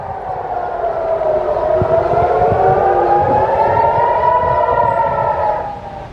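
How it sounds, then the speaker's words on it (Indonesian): A civil defense air raid siren wails in Israel, its steady rising and falling tone sustained loudly for several seconds over low background rumble before easing off at the end. "gelombang serangan Iran ke wilayah pendudukan Israel membuat sirine tanda bahaya terus berbunyi"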